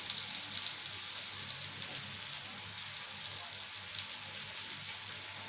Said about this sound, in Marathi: आणि 2 मिनिटं आपण एका बाजूने फ्राय करून घेऊया मोठ्या गॅसवरती